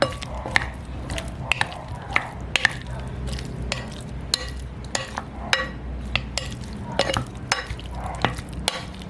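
A Spam marinade with oyster sauce is stirred in a bowl, giving repeated sharp clinks and scrapes of a utensil against the dish in an irregular rhythm over quiet background.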